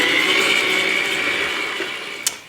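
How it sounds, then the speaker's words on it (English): An electric blender whisks muffin batter made with apples and apple sauce, giving a loud, steady whirring drone that fades slightly before a brief clunk near the end, with no voices. "So now I'm going to put down my blender and I'm going to let this whisk around for a couple of minutes."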